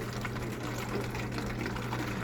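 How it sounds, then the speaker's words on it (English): Neem leaf liquid is poured into a plastic Western Dairies milk container, making a steady, continuous splashing and gurgling stream, close and alone without talk. "I'm just going to pour the neem liquid into this container."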